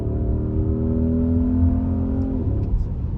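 A 2024 Porsche Cayenne S Coupe V8 with an 8-speed automatic revs after a downshift, a loud, close, steady engine drone that climbs slowly in pitch before easing off.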